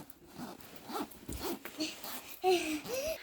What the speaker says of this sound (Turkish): Gel bakalım fermuarını açalım.